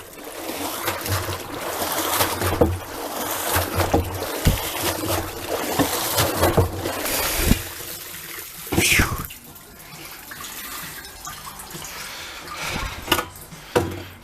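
Water splashes and runs as a seized Yamaha FZR1000 engine part is rinsed, a steady wash of liquid noise with a few louder sloshes and bumps, heard up close.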